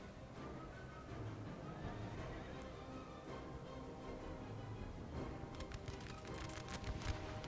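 A horse whinnies in Napoleon Total War amid a battle, the neigh standing out over a steady bed of combat noise with clattering, crackling bursts near the end.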